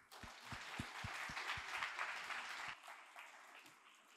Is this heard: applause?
yes